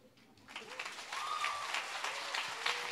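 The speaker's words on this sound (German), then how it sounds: "Applaus" Audience at the Slam am Jam 2018 poetry slam breaks into applause, starting faint and swelling within half a second into steady, moderately loud clapping from a crowded room.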